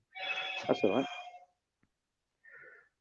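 A mobile phone rings with a bright electronic tone that starts loud, then a single faint ring follows after a pause, while a person speaks briefly over the first ring.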